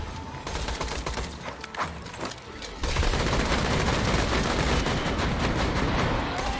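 A turret in the video game Borderlands 2 fires rapid, continuous gunfire that grows louder and denser partway through.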